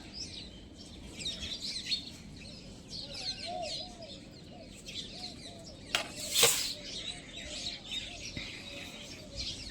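Small birds, likely sparrows, chirp faintly at scattered feed outdoors in the morning, a scatter of soft tweets over low background noise, with a brief louder hiss partway through.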